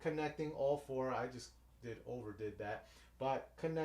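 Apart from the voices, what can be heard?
No everyday noise stands out behind the speech.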